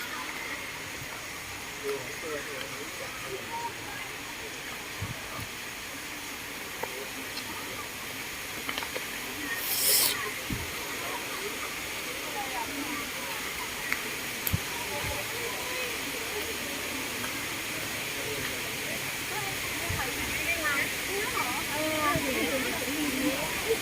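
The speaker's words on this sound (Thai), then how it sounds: "นี่นะครับรถจักรไอ้น้ำ456หมายเลข702นะทุกคน เข้ามาก็ล่มลื่นดีนะครับ" Steam locomotive No. 702 pulling in along the Death Railway beside Sai Yok Noi waterfall in Thailand, a steady broad hiss of steam running throughout with faint rail clanks, a busy tourist crowd and someone talking over it.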